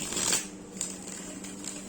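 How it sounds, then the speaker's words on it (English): Tarot cards being shuffled, a brief papery riffle and rustle up close with a few soft flicks, no talking. "let's give these a quick shuffle"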